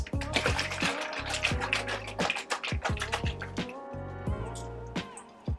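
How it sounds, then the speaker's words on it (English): Almond milk poured into vegan chocolate chip cookie batter makes a close run of wet glugs and drips, with uneven bursts and brief pauses. "Alright, time for the almond milk."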